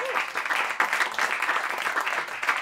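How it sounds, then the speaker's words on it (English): An audience at a live indie music show in Rochester gives a round of applause, with steady, fairly close clapping that runs the whole time and a few faint voices underneath. "Give yourselves a round of applause."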